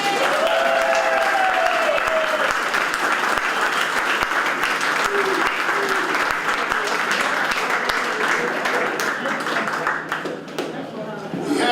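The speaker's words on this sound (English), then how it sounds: "let's have a big round of applause for Oakley Farris." A large audience at a 90th birthday celebration breaks into loud, sustained applause that fills the room, dense and steady for most of the stretch, with a few voices mixed in, before it eases slightly toward the end.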